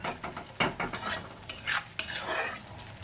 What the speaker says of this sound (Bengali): মশলাটা ভালোভাবে কষবো যাতে ওপর থেকে একদম তেল তেল ছেড়ে আসে